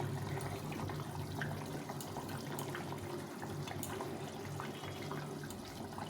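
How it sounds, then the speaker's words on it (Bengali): Fried fish going into a boiling curry gravy, a faint, continuous bubbling and watery burble with small splashes, soft and steady throughout. "ঝোলটা ফুটে গেছে ভালো ভালো মতন এখন মাছগুলো দিয়ে দেবো"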